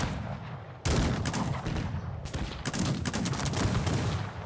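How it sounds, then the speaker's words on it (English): Musketeers fire volley after volley in Cossacks 3 during a battle, with dense, crackling gunfire starting abruptly and continuing as overlapping close shots without talk. "Still shooting, so we're still doing some damage"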